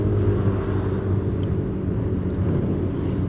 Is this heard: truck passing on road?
yes